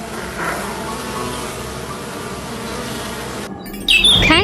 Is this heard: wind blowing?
no